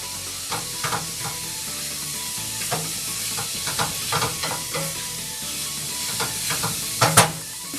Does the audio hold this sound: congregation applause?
no